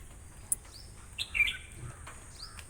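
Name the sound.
bird singing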